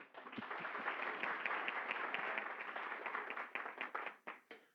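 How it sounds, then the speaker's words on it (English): An audience at a mayoral candidates forum breaks into steady applause, a dense patter of many hands clapping for several seconds before thinning into scattered final claps. "Give him a round of applause."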